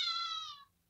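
A cat meows once in the horror video game Ice Scream 2, a single clear, bright, drawn-out mew lasting about half a second and then falling silent.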